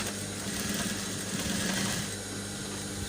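Sewing machine running continuously while stitching a waistcoat jacket, a steady close mechanical whir with a low hum that holds for the whole stretch and no talk over it.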